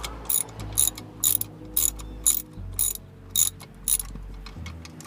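A ratchet wrench loosens a seized nut on the four-link rear suspension of an AE86, its rapid clicks arriving in a regular string of close, crisp bursts over a low background hum.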